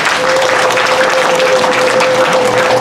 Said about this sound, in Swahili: Hebu mpenzi makofi ya utukufu.